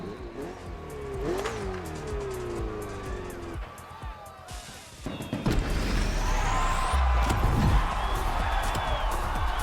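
Race cars accelerating in The Crew Motorfest video game, with engines revving and climbing in pitch, a loud, sustained roar through the second half and possible tire squeal over a busy mix.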